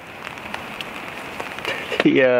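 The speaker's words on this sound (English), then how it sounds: "The rain so far isn't too bad, it's just sort of tip-tapping on the" Light rain taps on a tarp at a woodland bushcraft camp beside a fire, scattered close drips over a soft hiss, then a voice briefly starts at the end.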